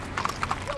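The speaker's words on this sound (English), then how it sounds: "Riders get their horses warmed up as dawn approaches" Horse hooves clip-clop on pavement as riders warm up their mounts at dawn before a trail ride down Colorado Boulevard in the Rose Parade, a few separate nearby hoof strikes over low crowd murmur.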